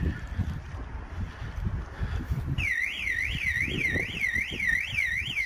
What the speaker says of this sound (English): Just trigger the alarm system off